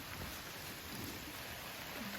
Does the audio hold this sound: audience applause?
no